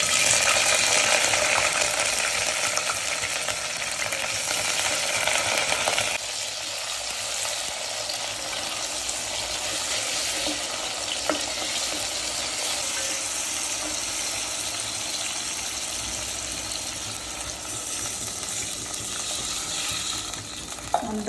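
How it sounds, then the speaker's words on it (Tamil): Mustard seeds, onions and chilies frying in hot oil in a pressure cooker: a loud, continuous sizzle that eases slightly partway through, with occasional light clinks and stirring. "கடுகு போட்டுச்சு, வெங்காயம் மிளகாய் போட்டுக்கலாம்."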